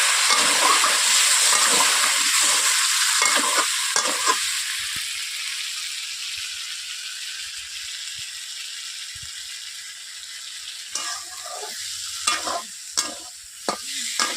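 Boiled small potatoes sizzle and fry in a kadai for a vegetarian aloo dum, loud and steady at first, then settling into a softer hiss broken near the end by a few sharp scraping stirs.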